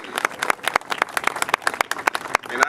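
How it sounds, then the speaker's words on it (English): Applause from a modest audience, distinct individual hand claps ringing out in a quick, uneven patter, close and fairly loud, continuing steadily throughout. "Please give him a big round of applause."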